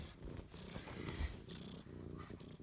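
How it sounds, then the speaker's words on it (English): A pet house cat purrs in a low, steady rumble that is faint and continuous. No one speaks. "This is my cat."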